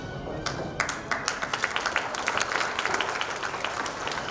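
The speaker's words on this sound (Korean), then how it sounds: "자, 더 힘찬 박수 부탁드립니다." An audience at an inauguration ceremony for a broadcasting company chairman applauds. Scattered individual claps at first build into sustained, fairly close clapping from a modest crowd.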